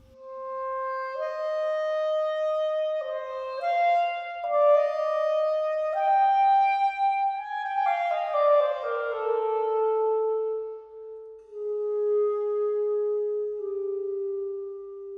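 A solo clarinet picked up by tree and outrigger microphones plays a slow, smooth melodic line of sustained notes, clean and resonant, rising then settling into long held tones with no voices.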